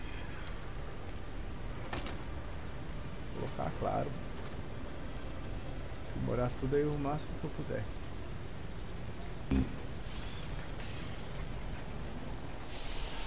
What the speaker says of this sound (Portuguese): aqui tem um chuva ácida, ó